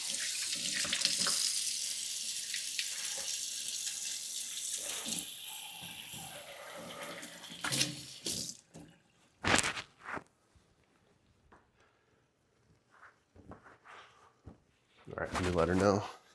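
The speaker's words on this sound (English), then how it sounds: "Wash the hands." A kitchen faucet runs steadily while hands are washed beneath it, the water loud at first and then cut off, followed by scattered clatter and a voice speaking.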